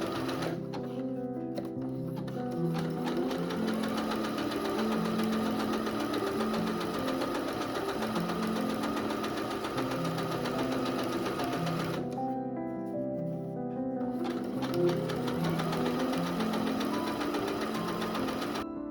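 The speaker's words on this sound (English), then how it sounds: "this is the second seam of the elastic, so here I use a 3-part zigzag" A sewing machine runs steadily, stitching a 3-part zigzag seam on bra elastic. Its rhythmic mechanical whirr carries on close and continuous, with a short change in pace partway through.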